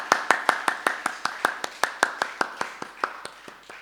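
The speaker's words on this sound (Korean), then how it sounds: "우리 감사의 박수를 올리겠습니다" A congregation at an early-morning church worship service claps in unison, a brisk, steady run of about seventeen sharp, evenly spaced claps over a few seconds, fairly close and with no talking.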